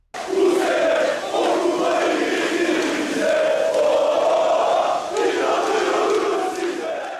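Hundreds of Boluspor football fans in red and white chant in unison in the stands, a loud, sustained crowd roar rising and falling in rhythmic waves throughout, with no separate talk.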